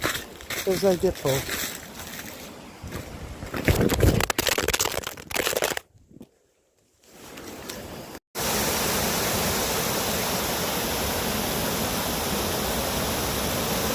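A steady, broadband roar of falling water fills the latter half, following rustling, crunching footsteps and handling noise with a brief dropout.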